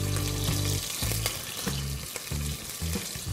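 Mustard seeds, green chilies and curry leaves hitting hot oil, a loud dense sizzle and spatter with a few rhythmic low scraping strokes of stirring underneath.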